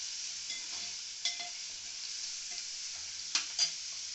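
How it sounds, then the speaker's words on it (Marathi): Onion sautéing in a pan for kantoli bhaji, a soft steady sizzle with a few sharp spoon scrapes and clicks against the pan, close and fairly quiet. "आता आपण टाकूया कांदा. कांदा चांगला परतून घेऊया."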